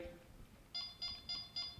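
Four quick, even beeps come from a v2 bite alarm set to beep speed 3, faint and close against a quiet hiss.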